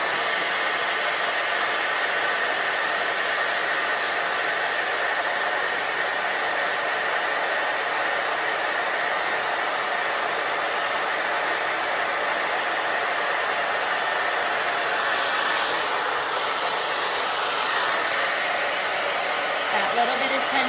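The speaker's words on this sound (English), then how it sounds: "my vent brush and my blow dryer because we're gonna blow dry this beard" A blow dryer on medium heat dries a beard, a steady, loud broadband whoosh that runs continuously and alone, with slight shifts as the airflow moves up and under the hair.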